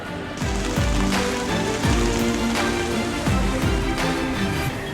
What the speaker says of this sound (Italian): Poi arrivò anche la pioggia.